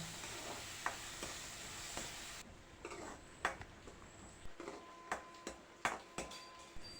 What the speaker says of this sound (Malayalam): അപ്പോൾ ഉള്ളി ചെറുതായിട്ടൊന്ന് വഴച്ചെടുക്കാം